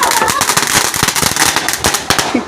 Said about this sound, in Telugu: అలాగే మేము కూడా మేడ మీద బాంబులు కాలుస్తున్నాం